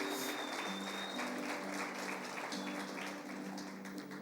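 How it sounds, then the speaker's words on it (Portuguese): Sustained applause from a large church congregation fills the space, a dense steady wash of clapping with a faint tone lingering underneath. "dê uma salva de palmas bem calorosas para os nossos visitantes"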